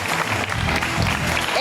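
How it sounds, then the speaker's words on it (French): Audience applause for the singles at a live match debrief event, a steady, dense wash of clapping running throughout the clip, with a voice speaking over it. "on applaudit pour nos célibataires"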